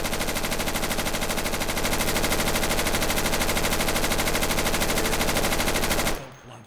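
Sustained automatic gunfire from weapons in the video game Insurgency, a loud, dense, rapid rattle of shots that keeps going for about six seconds before cutting off abruptly.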